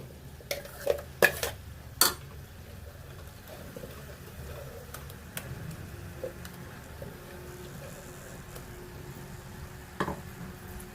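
Ground masala being stirred into a dry potato, green pea and capsicum curry in a pan, with a few sharp spoon clinks on the metal early on and soft scraping and faint sizzle afterward, close and fairly quiet.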